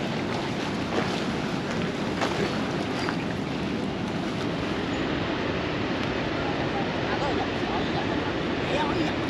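Small waterfall on the Rhine in Mainz, a steady broadband rush of falling water heard close and constant, with wind buffeting the microphone throughout.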